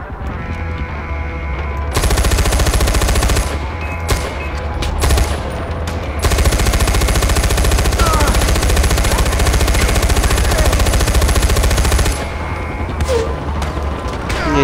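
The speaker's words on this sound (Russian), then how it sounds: "Вот здесь тоже какой-то пулемет есть." Machine gun fire in the shooter Far Cry 4 bursts out in long, loud, rapid rattling volleys, with brief pauses and crashing impacts between them.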